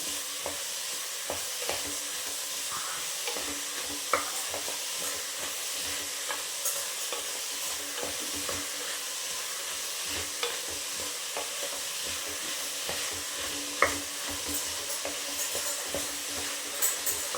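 Avarekalu beans and onion stirred through hot oil for an avarekalu usli, a steady close sizzle broken by frequent scraping knocks of the spoon, with no voices.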